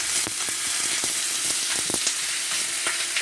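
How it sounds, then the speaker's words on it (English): Steady loud sizzling of chopped chicken breast frying in a hot pan with vegetables, with crackling pops scattered throughout. "I'm gonna put in my chicken just to fry with it, so they all fry together."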